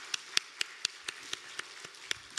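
Church congregation clapping in a steady, even rhythm of crisp hand claps, several per second, fairly close and with no talking.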